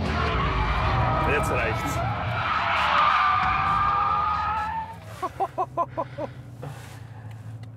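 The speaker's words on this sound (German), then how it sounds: "Niki reiht einen Drift an den nächsten und pendelt munter über die Landebahn." A BMW M6 drifts on an airfield runway, its engine revving hard under long screeching tire squeal, followed by a series of short rhythmic thumps as someone speaks.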